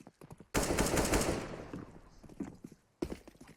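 Gunfire in a Counter-Strike esports match on the map Banana, a sudden loud burst of rapid automatic shots that trails off, then a second sharp volley at the end, under faint commentary.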